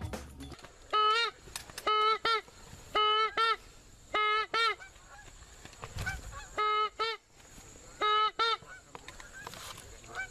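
A flock of geese honks during a goose hunt, the calls coming in repeated bursts of several overlapping honks with short gaps between them, fairly close and loud, with no talking.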